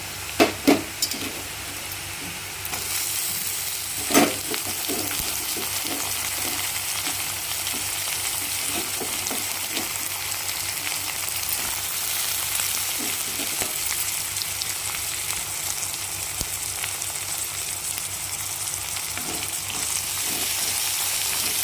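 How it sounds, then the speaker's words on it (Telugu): Onions and dried shrimp sizzle steadily in hot oil for a Telugu tamarind-leaf dried prawn curry, with a continuous close frying hiss, occasional stirring clinks and scrapes, and no talking. "వీటిని నూనెలో వేగనియాలి."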